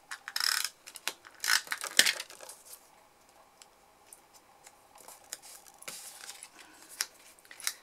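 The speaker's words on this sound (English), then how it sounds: "I'm quite confident to just cut a small bit off there" Scissors snipping a small piece of card during handmade card crafting, a few quiet close crisp cuts and clicks, then light handling noises with no talking.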